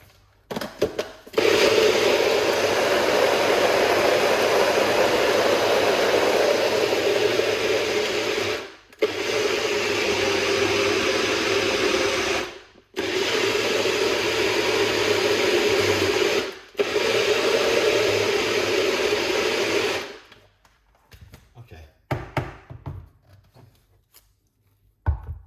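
A blender purees red apple, ginger and lemon juice with a little liquid under the lid, a loud steady grinding whir in long bursts separated by brief pauses, then stopping and leaving quiet handling sounds.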